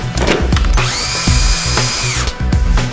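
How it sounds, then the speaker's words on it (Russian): A power screwdriver drives screws into a window sash while fitting INTERNIKA window hardware scissor arms, with a sustained high motor whine under repeated low thumps, close and loud throughout. "Прикручиваем ножницы на створке шурупами"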